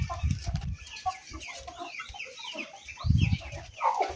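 Backyard chickens cluck and chatter close by, with several overlapping birds giving short rhythmic bursts and higher squawks, while faint chirps sit in the background.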